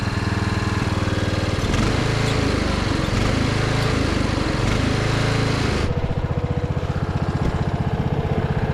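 Cheap second-hand lawn mower engine running steadily and loudly up close, a continuous buzzing drone that shifts to a lower, more rhythmic chug partway through, with no talking.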